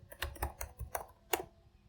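Fingers typing on a computer keyboard, a quick uneven run of about seven close, crisp key clicks with no talking.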